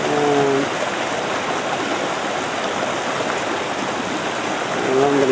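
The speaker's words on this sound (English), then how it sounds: "Now we have a nice little falls on the creek." A small waterfall on a flooded creek produces a steady, loud rushing wash of water, with a voice heard briefly at the start and end.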